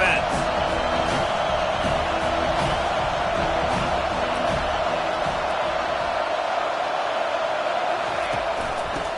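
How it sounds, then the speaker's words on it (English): Stadium crowd in EA Sports College Football 25 during a Florida versus Tennessee game, a dense, loud, continuous roar with cheering swells filling the whole stretch at steady intensity. "This crowd trying to make life miserable for this offense."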